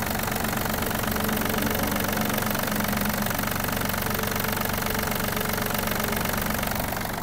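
A Yanmar RS-27 mini tractor's small diesel engine idles steadily up close, a dense, even knocking rumble that never changes pace.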